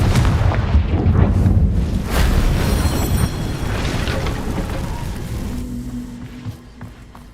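Heavy booming blasts from the Bombarda explosion spell in the video game Hogwarts Legacy, several loud bursts in the first few seconds, then rumbling debris and a fading mechanical hum.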